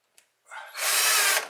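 A brief click, then a power drill whirs up and runs for about a second before winding down, close and loud, while installing a pet door in a hollow-core interior door.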